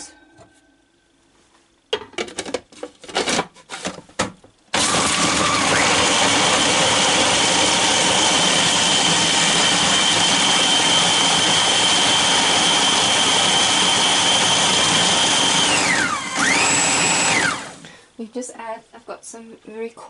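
A kitchen machine mixing meatball ingredients with flax seeds runs as a loud, steady motorized whir for about thirteen seconds after some handling noises. It dips and changes pitch briefly near the end, then stops, leaving scattered clatter.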